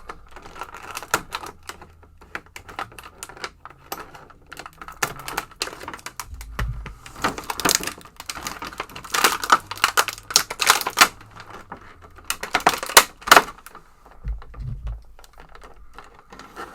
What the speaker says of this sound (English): So I'm going to cut around the plastic just to open up this